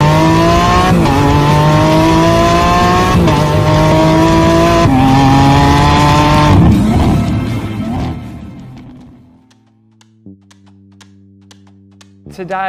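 A brand new Audi A4 Quattro sedan accelerates with a loud, rising engine note that steps up through several gear changes. It then fades to near quiet and is followed by a few brief tonal beeps.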